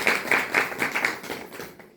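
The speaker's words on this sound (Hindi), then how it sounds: "मैं चाहूँगा सभी तालियों से भी इनका स्वागत करें" A small audience at a New Year charity event in Bikaner claps to welcome a doctor guest, a brief burst of applause that fades within two seconds.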